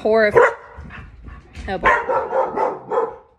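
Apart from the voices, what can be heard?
dogs barking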